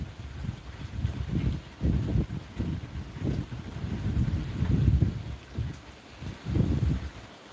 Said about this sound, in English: It's a little windy too.